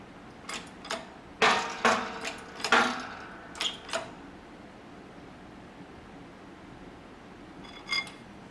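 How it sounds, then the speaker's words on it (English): A series of sharp pops and cracks as a bearing seats into a Husqvarna mower spindle housing, several in quick succession then a few spaced ones, close by against a faint hiss, with one last pop later. "the popping sound you hear is the bearing seating the rest of the way into the housing"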